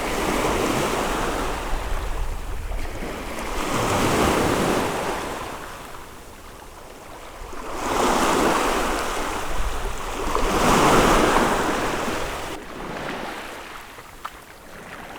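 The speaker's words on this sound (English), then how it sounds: "just to let you watch the waves." Ocean waves roll onto a Cape Cod beach in New England, with loud, steady surf swelling and receding in slow surges about every four seconds, backed by wind noise on the microphone and no talk.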